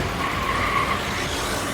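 Limousine tires screeching to a halt in the Steins;Gate visual novel, a sustained loud skidding squeal lasting under two seconds, heard alone.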